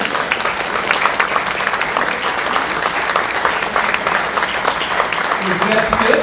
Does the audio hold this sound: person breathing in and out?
no